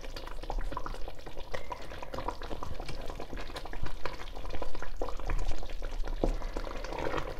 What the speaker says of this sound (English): I'm gonna go in with my leeks and tomato cube